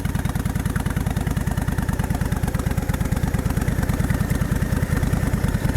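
A Honda VTX1300 motorcycle engine idles with a steady, loud, close low-pitched rumble and even rapid pulsing, no one talking.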